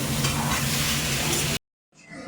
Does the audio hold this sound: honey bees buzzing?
no